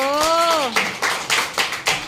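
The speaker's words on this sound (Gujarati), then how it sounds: "તાળી તો પાડો" A voice rises briefly, then a small group claps in a steady rhythm, close and fairly loud.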